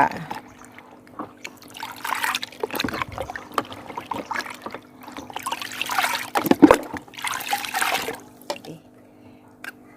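Beaten duck eggs are poured into ten litres of rice-rinse water, making intermittent splashing trickles and gurgling pours, close and moderately loud, separated by short quiet gaps.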